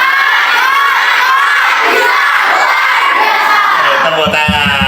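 A crowd of primary-school children at a dawn religious lecture shouts their school chant (yel-yel) together, loud, close and energetic. The voices rise and fall in a sustained chorus and break into rhythmic clapping at the end.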